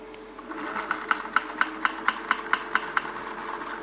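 A sewing machine stitches a strap with a steady run of evenly spaced mechanical clacks over a soft motor hum, close and clear with no talking.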